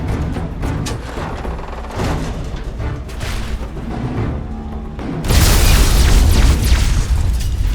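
Liberty Prime's photonic resonance overcharge in Fallout 3 lets out a sudden heavy blast partway through, then a loud sustained roaring rumble that fills the rest of the clip over a busy battle background.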